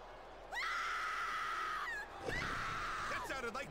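In the Smackdown vs Raw 2007 video game, a female wrestler yells twice in long, high, sustained cries, loud and close, with a brief break between them.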